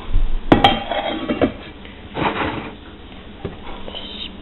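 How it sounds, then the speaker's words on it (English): Baked ziti scraped and spooned into a Pyrex glass baking dish: a few sharp clinks of utensil on glass near the start, then soft scraping and thuds of food settling, close and moderately loud with quiet gaps. "After it's all mixed together, we're going to put it into a Pyrex pan"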